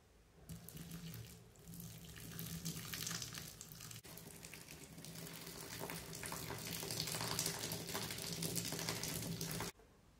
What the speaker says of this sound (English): I'm just going to add some hot water and just see if it does its little volcano